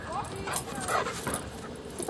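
A dog yips and whimpers excitedly at a model helicopter in an outdoor park, short high calls mixed with voices talking and a steady background whine.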